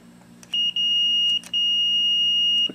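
A multimeter on continuity mode gives steady electronic beeps as the probe touches a bare spot on a grounded hot air station connector case, two sustained tones with brief breaks, clear and alone.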